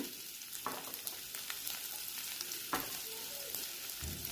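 Chopped ginger, garlic and onions frying in a pan for a curry, giving a steady close sizzle with faint stirring scrapes and small pops throughout.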